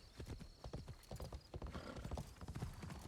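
Rapid hooves clop in a quick rhythm while a horse whinnies in Assassin's Creed Shadows, the sounds crisp and close like game audio.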